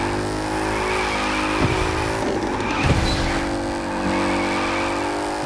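A drift car in The Crew 2 holds a steady, close engine roar as its tires squeal and skid through a slide, with brief bursts of revving partway through.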